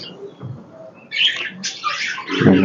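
A pigeon kept in a home loft gives a few short, close bird calls and squawks in quick succession, fairly loud against a quiet background.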